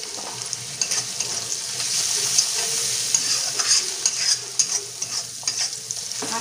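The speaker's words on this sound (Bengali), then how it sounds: "দেখো পেঁয়াজটা অনেকটা ভাজা ভাজা হয়ে গেছে," Onions fry in a wok with turmeric powder added, a continuous bright sizzle broken by repeated scraping stirs of a spatula, close and fairly loud with no talking.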